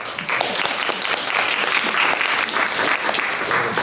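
Audience applause fills the room after a talk on governance reform of Estonian national museums, steady dense clapping throughout without a break, close and loud.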